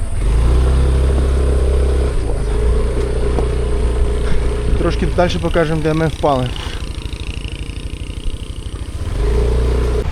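A motorbike rides a rough, difficult road in Bali, its engine droning steadily up close while people talk over it almost throughout.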